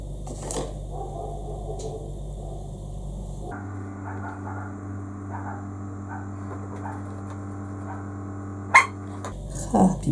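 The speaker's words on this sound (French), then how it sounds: "Il y a un chien qui aboie" A dog barks outdoors, giving a few sharp barks late in the clip, mostly near the end, over a steady low background hum.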